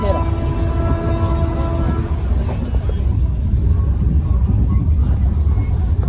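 Steady low rumble and rattle of a moving local train, with a faint tonal whine early on and voices under the constant noise.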